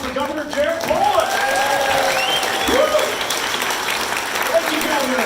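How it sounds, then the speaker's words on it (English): A conference crowd at ClimateCon gives a final round of applause for Colorado Governor Jared Polis, steady dense clapping filling the room throughout, with a voice speaking faintly over it. "can we get a final round of applause for Governor Jared Polis?"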